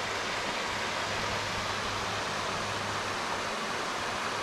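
Steady broadband rushing of a snowmelt stream in the woods, continuous and fairly close, with no voices over it.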